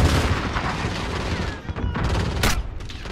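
Dense gunfire in Call of Duty Modern Warfare, a loud continuous barrage of rapid shots and booming blasts with a sharp burst near the end.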